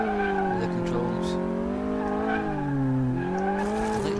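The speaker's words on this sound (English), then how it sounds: "I like the engine sound." A car engine in the game Car Mechanic Simulator drones steadily with a continuous hum that rises and falls smoothly in pitch, heard loud and close throughout, with a voice talking over it.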